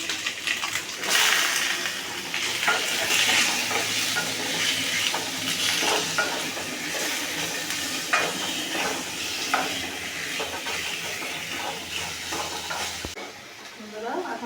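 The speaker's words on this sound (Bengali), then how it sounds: "দেখুন বন্ধুরা, কত সুন্দর করে ভাজা হচ্ছে।" Chicken pieces frying and being stirred in a pan for chicken soup, with a steady bright sizzle and scraping stir noises throughout, close and fairly loud.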